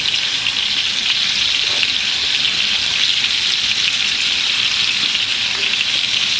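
Beef tenderloin pan-roasting with rosemary sprigs added, giving a loud, continuous hiss and sizzle of hot fat that stays even throughout, with no talking.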